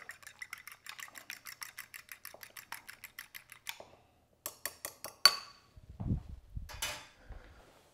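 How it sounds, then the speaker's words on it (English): Two eggs being stirred briskly in a bowl with a utensil, a quick run of regular clinking taps for several seconds, then a pause and a few scattered louder clinks and scrapes, heard alone without talking. "I'm gonna give these a stir before we add them to the mixture just to give us a head start here."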